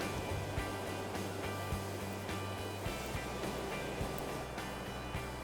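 A trout stream runs rough and fast past the far bank: a steady, even rush of moving water with no voices.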